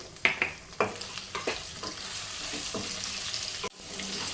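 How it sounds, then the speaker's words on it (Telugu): Sliced okra frying in hot oil with turmeric and salt, a close steady sizzle broken by repeated scraping stirs of a spatula against the pan, with no talk. "ఇందులోనే ఇప్పుడు మనము కొంచెం పసుపు అలాగే సాల్ట్ కూడా వేసుకొని మనము వేయించుకోవాలి"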